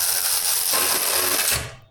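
A Vevor 12V cordless 3/8-inch ratchet runs in one short burst, its motor whirring and the mechanism clicking up close, then winding down as it is released.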